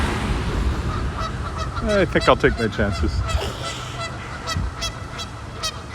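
Geese honking from a rooftop on a downtown street corner, a short burst of several loud, nasal calls in quick succession over traffic and city ambience, with someone speaking before and after.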